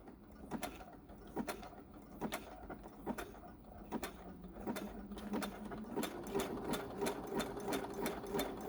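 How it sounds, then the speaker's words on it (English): A sewing machine stitches navy blue thread through fabric, running in quick rhythmic bursts of clicking needle strokes that speed into a steady mechanical whir, close and fairly quiet. "This is just what I had in the machine, which is navy blue."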